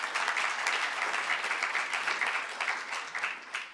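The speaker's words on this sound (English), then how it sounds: "Why don't we give us another round of applause?" Audience applause at a climate event on cities in Auckland, a dense steady wash of many hands clapping at a moderate distance that holds for several seconds and then tapers slightly.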